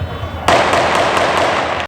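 A sudden burst of rapid gunfire during a police shootout with a gunman on Old Harbour Road, loud and sharp, with repeated shots cracking over a sustained roar for about a second and a half before cutting off.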